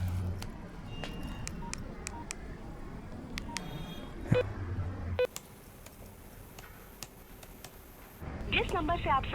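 A phone call being dialed on a handset, with short beeps and tones over a busy background where people talk, ending in a brief burst of rising tones.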